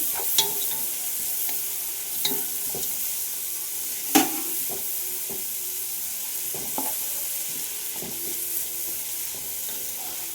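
Onion frying in very hot oil with a little turmeric powder, a continuous bright sizzle with occasional stirring clicks and scrapes, close and steady without any talk.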